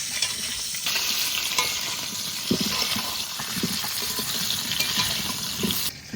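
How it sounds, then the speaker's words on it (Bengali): Thick-cut potatoes frying in a pan over a wood fire, a loud, steady sizzle with scraping stirs at intervals, fading slightly at the end. "মোটা মোটা আলু তো হালকা আছে ভাজতে হবে"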